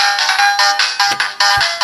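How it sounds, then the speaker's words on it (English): Electronic arcade sound effects from a small toy playset, a rapid, bright chiming jingle of repeating beeps, loud and close, lasting under two seconds. "Those sound just like an arcade."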